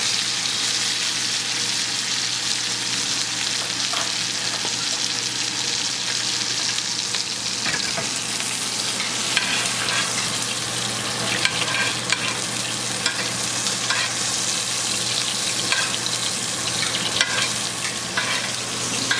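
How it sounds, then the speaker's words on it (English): Steak fries in a hot pan while being basted with flavored butter, giving a steady, close, dense sizzle that holds at an even level throughout with small crackles and spatters. "I'm just going to baste that flavored butter."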